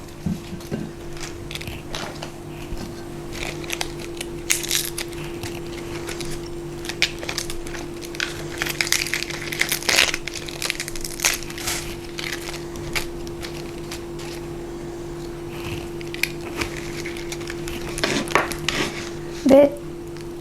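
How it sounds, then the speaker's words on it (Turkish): A knife cuts vegetables into very thin julienne strips for homemade sushi, a steady run of light, quick taps and scrapes on a cutting board, fairly close, with a low hum and a few clatters. "Ve ince ince jülyen doğruyorum. Olabildiğince ince."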